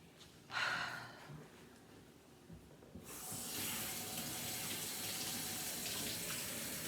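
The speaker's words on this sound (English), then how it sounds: "Let me rinse my hands off" Tap water runs into a kitchen sink as hands are rinsed, a steady broadband rush that starts after a faint gasp and continues loud and close to the end.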